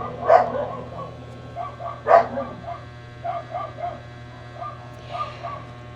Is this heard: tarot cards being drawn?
no